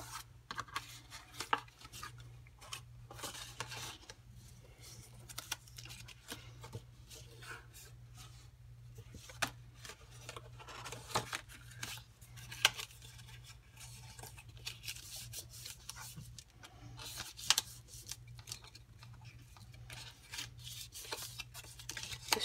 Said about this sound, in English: I'm just going to fold on all of the lines.